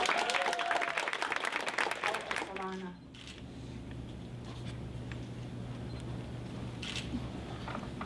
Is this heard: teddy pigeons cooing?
no